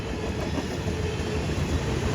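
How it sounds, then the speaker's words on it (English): An empty auto rack freight train rolls past at close range, a steady loud rumble of wheels and rattling cars with a faint clickety-clack and no pauses. "we'll also see a empty auto rack train, X222, at Madisonville"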